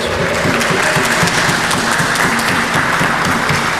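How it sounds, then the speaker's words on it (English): Sustained applause from the audience at a racquetball pro-am singles final in Stockton, thanking the event staff, with dense, steady clapping from a crowd that stays loud and even throughout. "a big round of applause, everybody, for John Ellis and his whole staff"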